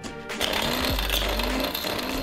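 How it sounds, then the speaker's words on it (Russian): A coffee grinder crushes a hard lump of cola-derived caramel into sugar with a loud, continuous buzzing roar and a rattling, grinding texture throughout. "нашу увесистую карамельку кладем в кофемолку"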